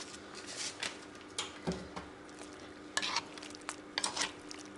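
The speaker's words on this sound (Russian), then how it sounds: "Еще раз перемешиваю." Potatoes and vegetables for lagman get stirred in a pan, giving several short scraping strokes and clinks over a soft steady sizzle, close and fairly quiet with no talking.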